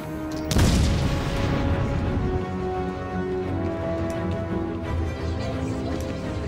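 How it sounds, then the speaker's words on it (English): A grenade blast in Batman: Arkham City: one sharp, loud explosion that rolls into a long, dense rumble of debris and crackle, fading slowly and steady without any talk. "Grenade!"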